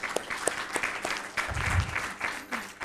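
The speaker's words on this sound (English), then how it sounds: "let's give everyone a round of applause." Audience applauding at the close of a plenary panel on carrying capacity, moderately loud and fairly close clapping filling a short burst, with a low rumble swelling in the middle.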